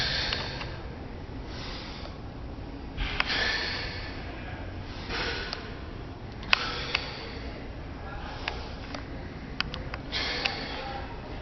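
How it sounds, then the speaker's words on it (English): Heavy rhythmic breathing during stiff-legged deadlift reps, with sharp inhales and forceful exhales repeating every couple of seconds, close and fairly loud over a steady background hiss. "So on the drop, we're inhaling. On the up, we're exhaling."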